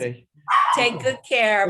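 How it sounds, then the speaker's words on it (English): A dog at home barks at something it has heard, its yips overlapping short spoken farewells close to the microphone. "And that's my dog"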